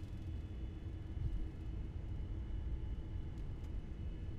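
A Tui Belgium airliner rolls down the runway at Zanzibar on its takeoff run, a steady, dense low roar of engines and rumble holding constant throughout.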